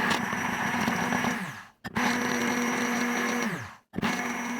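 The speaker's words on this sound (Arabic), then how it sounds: "انا بالنسبه لي هستخدم الهاند بلندر." Hand blender whirring steadily as it mixes ingredients for gluten-free, flour-free bread, running loud and close in two long bursts, each briefly cut off and restarted, with no talking.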